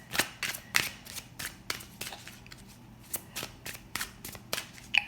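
Tarot cards are drawn from a deck with a quick run of crisp, papery snaps and flicks, about a dozen light clicks in an uneven rhythm, close and fairly quiet.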